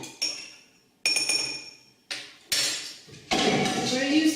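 A kiwi and basil wine cocktail is stirred in a glass, with a series of clinking metal-on-glass strikes and rattles arriving in separate bursts, close and bright.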